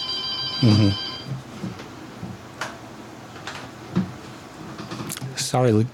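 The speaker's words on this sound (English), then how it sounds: "I think our phone is ringing." Telephone ringing in a radio studio, heard as a few short bursts of a harmonic electronic ring across the clip, fairly clear, with people talking and moving around it.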